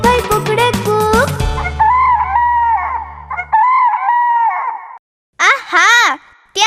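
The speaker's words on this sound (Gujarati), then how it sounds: "કુકડે કુક, બોલે કુકડો જાગી જાઓ" A rooster crows cock-a-doodle-doo in a Gujarati children's rhyme, with bright sung music first, then two loud rising-and-falling crow calls near the end after a short gap.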